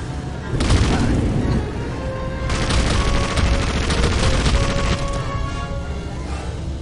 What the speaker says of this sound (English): Everyone's throwing grenades at me.